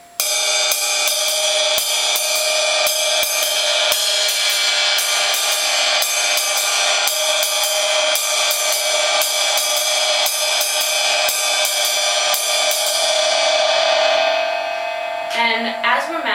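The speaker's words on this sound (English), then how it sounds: "we can move to what's called a spang-spang-a-lang" A ride cymbal plays a swing spang-spang-a-lang pattern, with bright pinging strokes falling in a lilting, uneven pattern over a continuous shimmer, played alone and fading near the end before a few softer taps.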